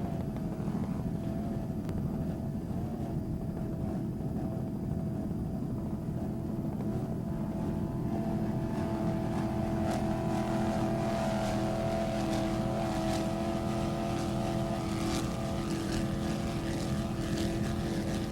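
Racing powerboat engines roar steadily on the water during a Factory class race off the Cleveland skyline, a continuous distant drone that swells slightly in the second half.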